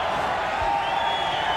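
Boxing arena crowd roaring continuously to urge on Vinny Pazienza in his fight with Greg Haugen, a dense, loud, unbroken wash of cheering voices.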